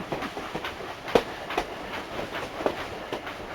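A Minecraft train rolls along its track with rhythmic clicking beats and a faint steady rumble, heard alone and fairly quiet.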